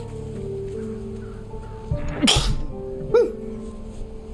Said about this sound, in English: The view was so good it had me sneeze.